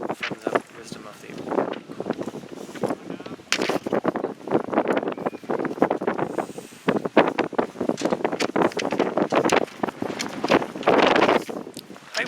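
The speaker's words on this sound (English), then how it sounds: "It's a lot of wind." Strong outdoor wind gusting and buffeting the microphone in loud, uneven bursts, heard throughout beneath a person talking.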